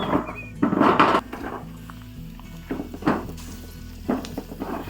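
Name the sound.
cashew fruit roasting on a hot metal sheet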